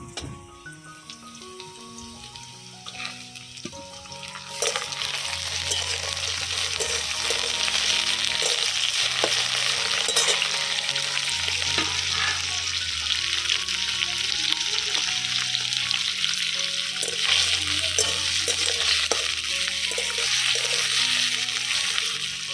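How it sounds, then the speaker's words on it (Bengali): Onion and tomato fry in a pan, the sizzle starting softer and swelling into a steady crackle, with faint clinks of stirring and no voices. "হালকা ভেজে নিয়েছি এবারে দিয়ে দিব টমেটো"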